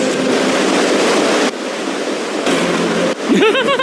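Water rushes loud and steady through a cave as a river fills the space with a dense roar, with a brief whistling or squeaky sound near the end.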